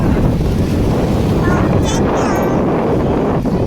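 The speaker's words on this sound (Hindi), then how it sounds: "एकदम ठंडा ठंडा हवा चला थे" Steady wind buffeting the microphone, a continuous rough rush with a few faint higher tones passing through, no clear speech.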